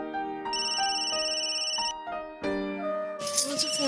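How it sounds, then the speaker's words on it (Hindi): Mobile phone ringtone playing loud and close as a bright melodic electronic tune with repeated note phrases, in a Marathi TV serial scene, with no talking over it. "माझा फोन आहे घरून।"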